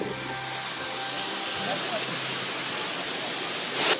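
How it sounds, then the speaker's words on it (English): A man-made waterfall at the Kansas City Zoo gives a steady, broad rushing hiss that holds evenly throughout, with a brief louder burst near the end. "Like the man-made waterfall back here."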